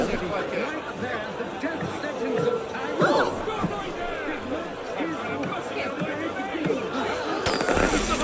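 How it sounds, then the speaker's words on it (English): Crackling video game fireworks bursts and pops under a busy babble of crowd chatter, with people talking throughout, in Assassin's Creed Unity. "Is that a firework of some kind?"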